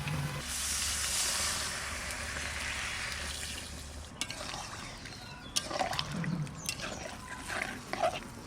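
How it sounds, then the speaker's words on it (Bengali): Water pours into a pot of young jackfruit curry cooked with ground garam masala, a loud steady rush that gives way to bubbling and sputtering, heard close up. "কষানো হয়ে গেছে, এবার জল দেবো"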